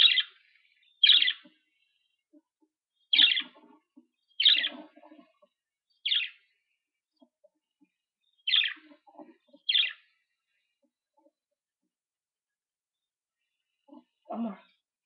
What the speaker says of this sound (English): As you can see, she can chirp.